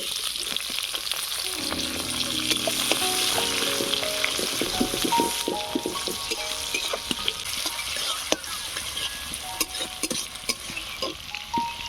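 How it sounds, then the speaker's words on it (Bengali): Chopped onion sizzles in hot oil with dry red chilli and nigella seeds, a loud continuous crackle with scattered pops and occasional scraping stirs close by. "এবারে দিয়ে দিচ্ছি পেঁয়াজ কুচি"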